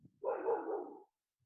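A single muffled dog bark or woof, moderately close and lasting under a second, in an otherwise quiet setting.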